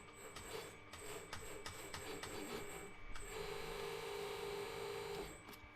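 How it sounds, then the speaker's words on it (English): Sheet metal being flanged on a powered beading machine, a steady, faint mechanical whir with a high whine and light rhythmic rattling, running continuously. "And also on the beading machine."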